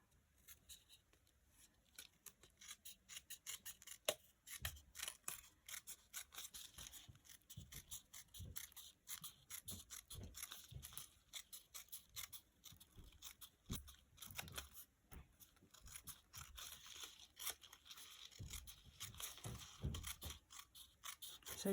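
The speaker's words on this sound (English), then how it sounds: "So I'm just going to go ahead and trim around this piece here." Scissors trimming around a paper piece from a Tonic Studios ocean craft kit, a long run of faint, close snips and crisp paper crunches in an uneven rhythm, with no talking.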